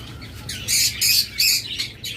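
A caged pair of blue-mask lovebirds gives sharp, squawking calls in three loud bursts over a steady background hum, with no talk.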